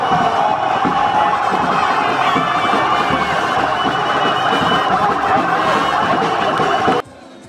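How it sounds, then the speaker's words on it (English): A jubilant crowd welcomes Governor Caleb Mutfwang's convoy in Jos amid rainfall. Loud, dense cheering and noise blend with wailing convoy sirens in a continuous, close wall of sound that cuts off abruptly near the end. "Jubilant crowds welcomed the governor at different locations amidst rainfall"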